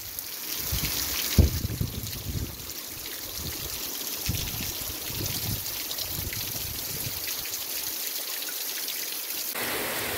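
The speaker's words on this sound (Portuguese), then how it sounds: "Eita, menino, que a chuva chegou agora" Heavy downpour in northeast Brazil, a dense continuous wash of rain and running water with a few dull knocks early on, steady and fairly loud throughout.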